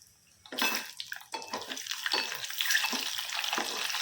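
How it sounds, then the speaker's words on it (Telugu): Boiled eggs are tossed into oil with sizzling tempering spices while cooking an onion egg curry, making close, uneven bursts of frying and stirring scrapes that settle into a steady sizzle. "వాటితో పాటు మన ఎగ్స్ కూడా వేగుతాయి."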